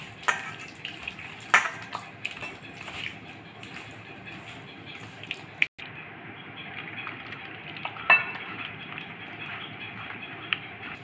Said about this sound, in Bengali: এটা ভালো করে মেখে দানাগুলো ছাড়িয়ে নেব।